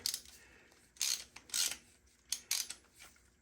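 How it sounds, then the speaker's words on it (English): A 24 mm wrench ratchets on the drain bolt of a 1983 Honda XR200R that has sat for years, giving several short, bright metallic clicking bursts close by, separated by brief quiet gaps. "I can get my 24 millimeter on the drain bolt"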